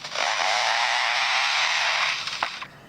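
A bird mimics a chainsaw: a harsh, buzzing, steady roar held for over two seconds, then a few clicks as it fades.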